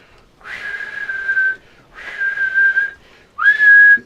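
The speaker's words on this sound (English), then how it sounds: "Just starts blowing into a whistle." Three loud, close whistle blasts, each held for about a second, with short silent gaps between them and a rising pitch on the last.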